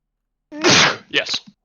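A single close sneeze bursts out sharply, followed by a brief exhale and a short vocal sound, with silence before it.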